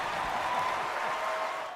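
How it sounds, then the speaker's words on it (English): At The Game Awards 2024, the audience in a large hall keeps up a steady round of applause, a broad even roar of clapping that holds and starts to fade at the end. "let's give a big round of applause to these two guys for the great circle"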